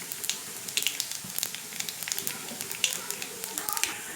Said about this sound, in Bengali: সরষা সজিনার জন্য আমি এখানে ফোড়ন দিয়ে দিব তেজপাতা, দিয়ে দিব কালো জিরে